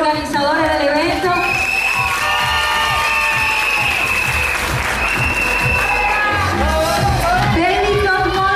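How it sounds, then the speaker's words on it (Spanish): A crowd at a children's beauty pageant gala final in Venezuela applauds continuously at loud volume while voices shout and music or tones ring out over the clapping. "El aplauso a los organizadores del evento."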